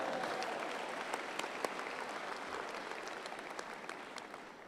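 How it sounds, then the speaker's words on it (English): A commencement crowd gives soft, distant applause that holds as a steady, diffuse patter in a large hall and slowly fades. "You can clap for this."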